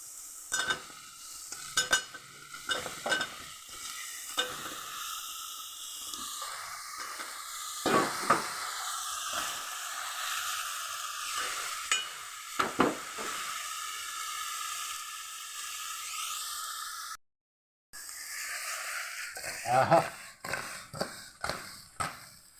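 Crab pieces dropped into hot oil with chili powder for a masala curry, giving a steady close sizzle and frying hiss with repeated stirring scrapes and clinks. A brief cut to silence interrupts near the end.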